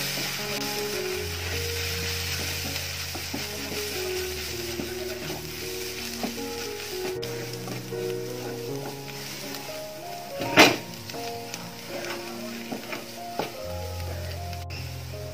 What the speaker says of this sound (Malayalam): ഇനി ഇതൊന്ന് നന്നായിട്ടൊന്ന് പച്ചമണം മാറുന്ന വരെ ഒന്ന് വഴറ്റിയെടുക്കാം.